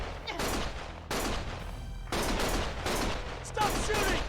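Gunfire in the Lost Judgment video game comes in repeated loud bursts and rapid volleys with short gaps between them, and it stays close and dense throughout.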